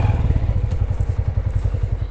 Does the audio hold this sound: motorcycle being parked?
yes